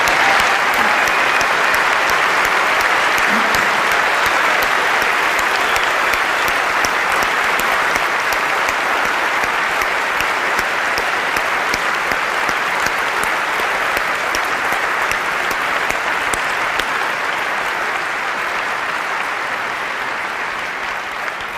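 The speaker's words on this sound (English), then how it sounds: "let us give them a round of applause" Large audience at a Macworld San Francisco 2004 keynote applauding loudly and steadily in a dense, sustained roar of clapping that holds for the full stretch, with no voices over it.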